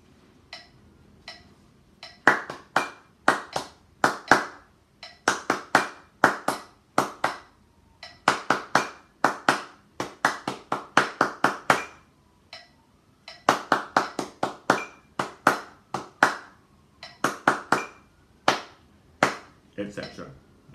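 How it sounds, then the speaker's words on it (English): Hands clap a bouncy 6/8 rhythm in time with a metronome, sharp close claps falling in repeated grouped patterns with brief pauses between phrases, no talking over them. "I'm just going to clap the rhythm."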